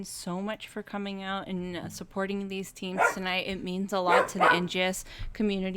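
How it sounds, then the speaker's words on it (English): A pet dog named Henry barks repeatedly in bursts, loud and close, while someone talks over it. "Even my dog Henry thinks so, if you can hear him barking in the background."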